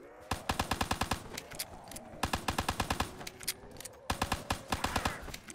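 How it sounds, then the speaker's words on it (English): Rapid automatic fire from a machine gun in Black Ops 3 Zombies, loud close bursts of quick rhythmic shots in three long strings with brief pauses between them. "Machine gun."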